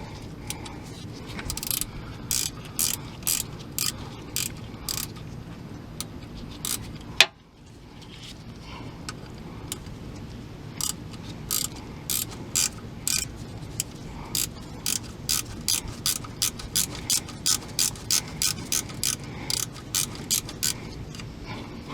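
Ratchet wrench backing out a long bolt on the AC compressor of a Dodge Caravan, giving repeated quick clicking bursts in short runs, with a brief pause midway and a steady low background hum.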